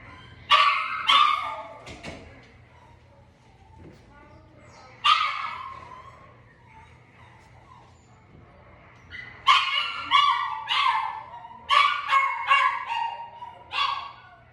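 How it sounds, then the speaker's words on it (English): A dog barks in repeated bursts, some quick runs of yips and barks, fairly close, with quieter gaps between and faint talk in the background. "I'm going to come a little bit closer to this barking dog"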